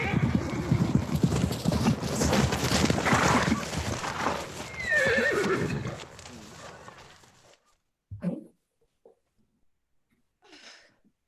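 Horses clop along with loud, busy hoofbeats and repeated whinnying on a staged Henry IV Part I hillside road scene, then the noise cuts off abruptly, leaving near silence broken by a few short, faint noises.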